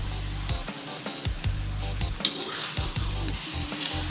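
Snakehead fish stir-fried spicy with white turmeric sizzles steadily in a hot pan, with repeated rhythmic scraping strokes of the spatula close by, no talking.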